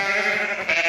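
Sheep and lambs bleating together at a farm during lambing season around the late afternoon feed, a continuous, loud, close chorus of overlapping bleats with no talk.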